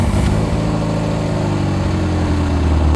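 A Ferrari 348 engine runs steadily at a loud, close idle, a low continuous drone with a slight change near the end.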